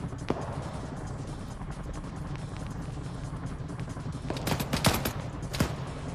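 Gunfire in the video game Arma 3 during a Cold War special-ops mission: one sharp shot early, then a cluster of several quick shots near the end over a constant low vehicle rumble.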